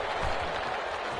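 A stadium crowd in a PS4 football video game applauds in a brief, dense wash of clapping that fills the moment.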